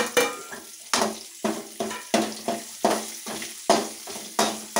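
Chutney ingredients fry in a pan under a run of about a dozen sharp scraping strokes from a stirring utensil, each followed by a short sizzle, spaced roughly every half second and heard close up.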